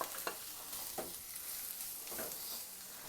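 Sliced onions fry in a little oil in a kadai, a steady soft sizzle broken by a few scraping stirs of a spoon across the pan.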